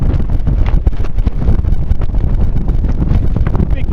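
Strong wind of about 30 miles an hour buffets the microphone at an island campsite, a loud, steady roar with gusty flutter throughout and no voices.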